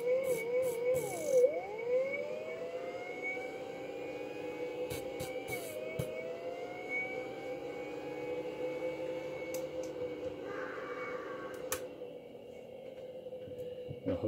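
Small VCR motor run at about 20 volts, a faint steady electrical whine whose pitch sweeps and wobbles early on before settling into an even hum, with occasional clicks.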